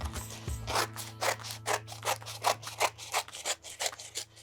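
Scissors snip through a plastic bag and black construction paper in a rapid run of about fifteen crisp, evenly spaced cuts, close and clear over a low steady hum.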